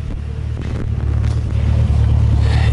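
A deep, steady V8 engine rumble through a 4-inch HKS exhaust on a Nissan 240SX, with a low throbbing note, loud and close, holding a constant idle with a slight swell toward the end.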